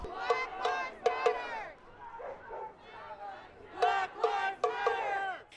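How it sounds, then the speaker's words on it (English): Crowd of protesters shouting in the streets during summer demonstrations after George Floyd's death, loud bursts of chanting voices rising and falling in waves, with a brief lull in the middle. "Crowds flooded the streets that summer"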